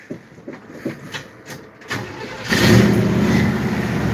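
An old vehicle's engine cranks in a few short, rhythmic bursts, then catches and fires into a loud, steady run close by.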